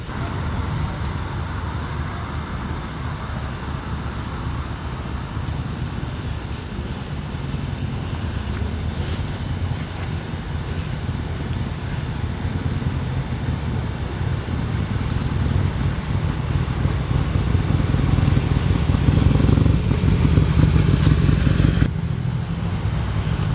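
A salvage Harley-Davidson motorcycle is ridden nearby, its engine a steady low rumble that grows louder toward the end, with wind noise over it and no talking.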